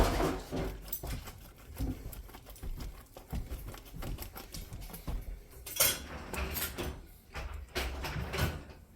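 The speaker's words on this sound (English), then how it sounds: "I'm going to grate in some Parmesan." Parmesan cheese scraped over a hand grater into a cheesy snack dip, giving a run of close, rhythmic rasping strokes with small clinks of kitchen utensils and no talking.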